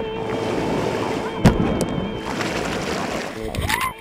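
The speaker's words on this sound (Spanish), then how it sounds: "desafiaron las corrientosas aguas del Río Negro en Nimaima, Cundinamarca" Rushing rapids of the Río Negro at Nimaima, Cundinamarca, roar steadily close to the water with a sharp splash-like burst near the middle and a brief rising tone near the end.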